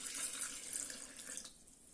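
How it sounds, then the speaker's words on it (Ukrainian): Tap water runs steadily into a vessel while breakfast is cooked at home. The stream is a smooth, fairly quiet hiss that shifts slightly near the end, with no voices. "Так, додаю воду."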